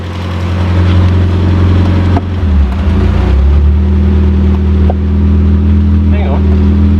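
A Ford TX3 Turbo twin cam engine runs with a loud, steady idle rumble that barely changes, close by, while people talk over it.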